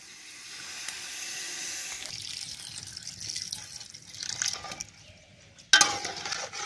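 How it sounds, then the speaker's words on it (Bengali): Water pours into a pot of frying rice for khichuri, a soft hissing, splashing stream that builds, eases off, then ends with a sharp clatter. "এখন জল দিয়ে দেবো।"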